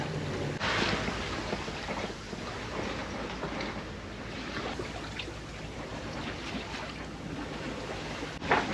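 Steady seven-knot wind rushes past the microphone over the low wash of water against a sailboat moving at about four knots near Majorca and Minorca, continuous and fairly loud throughout.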